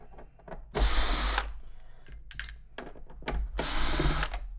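A power drill with a quick-change chuck backs screws out of a Lindhaus HF6 vacuum during repair, giving two long, loud whirring bursts separated by shorter clicks and handling noises.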